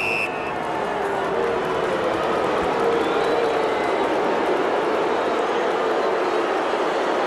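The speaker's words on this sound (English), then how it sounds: "Crowd" Steady roar of a large Australian football stadium crowd during a Brisbane versus Carlton AFL match, a dense continuous wash of noise rising slightly as a player lines up a goal kick, with no clear talk over it.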